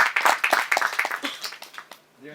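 An audience claps together at a devotional music video launch event, a fairly close burst of irregular applause that fades out after about two seconds, with a little voice underneath.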